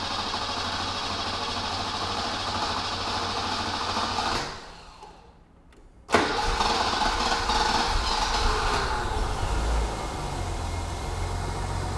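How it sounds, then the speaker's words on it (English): A BMW E21 323i with the M20 inline-six is cranked and fires up from cold: steady idle, a brief drop to near silence as the key turns, then the engine catches and settles back into a close, even idle. "we're gonna turn the key and see how it starts"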